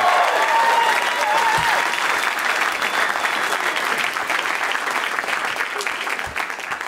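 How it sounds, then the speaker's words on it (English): A comedy show audience applauds with dense, sustained clapping and some cheering, loudest at first and gradually thinning out over several seconds. "Give these guys a round of applause."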